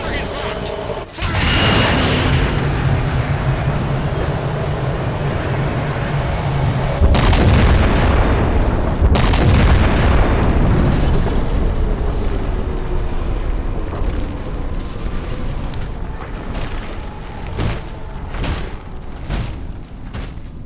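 Heavy weapon fire and deep booming blasts in a Halo 4 battle, with loud explosive impacts and rumbling sustained across the sequence amid game effects, no voices heard.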